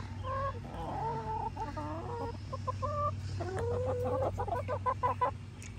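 Pet backyard hens cluck and warble close by in a series of short, chattering calls over a low steady hum. One bird lets out a longer, rising squawk near the end.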